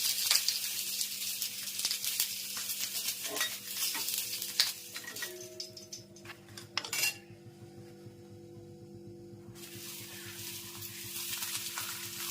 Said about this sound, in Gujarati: જો મરચા તળાય છે જોઈ શકો છો